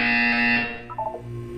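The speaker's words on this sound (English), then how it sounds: "You will hear a buzzer." A loud electronic buzzer from the Portal 2 video game sounds as a steady harmonic tone for about half a second, followed by a brief lower chime-like sequence of tones.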